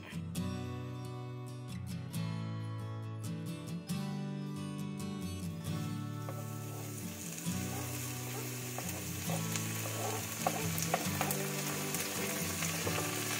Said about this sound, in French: Je vais juste faire revenir les oignons